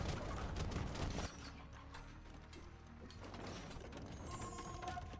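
Trebuchets working in a battle in the video game Age of Empires II, a dense clatter of mechanical creaks and ratcheting with a heavy impact at the start, then a steady layered rumble of battlefield noise.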